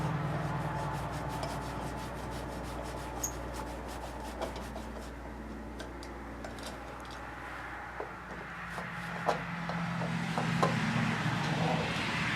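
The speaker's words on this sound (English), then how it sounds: "These are fine threads, so you gotta keep on screwing them out until they come out all the way." Fine-threaded light switch mounting screws are turned out by hand, making a faint, continuous scraping rub broken by small ticks and clicks in a quiet room.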